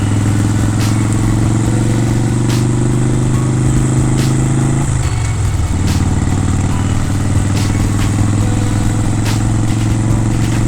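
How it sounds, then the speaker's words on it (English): A Harley motorcycle engine idles loudly and close with a steady low rumbling throb, its pitch dipping briefly midway before settling back, accompanied by faint ticking clatter. "Running the Harley for a little bit. It's been idling for quite a while."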